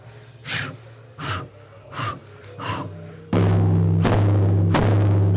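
A group breathwork session: four loud, rhythmic sharp inhales and gasps spaced about a second apart, then a sudden swell of droning music and sustained noise with two more breaths under it.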